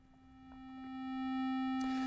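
A steady electronic sine tone with bright harmonic overtones that swells louder, buzzy and slightly distorted, with a faint click near the end.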